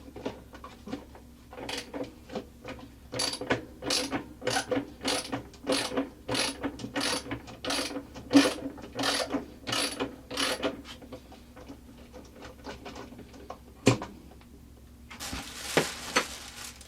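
A ratchet fitted with an extension clicks rapidly in steady bursts, close and clear, while backing a half-inch bolt out of a 2003 Maytag Performa washer, with a few clanks and a scrape at the end.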